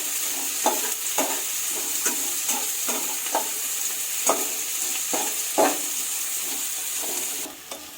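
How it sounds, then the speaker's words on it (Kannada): Onions frying with a pinch of salt in a pan for mushroom biryani, a steady broadband sizzle with repeated soft scrapes of a spatula stirring, close and constant, with no voices. "ಒಂಚೂರು ಉಪ್ಪು ಹಾಕೊಳ್ಳೋದ್ರಿಂದ ಈರುಳ್ಳಿ ಬೇಗ ಫ್ರೈ ಆಗುತ್ತೆ"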